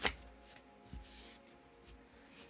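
A deck of tarot cards being shuffled in a few soft, close riffles and rubs, quiet and papery, with no talking.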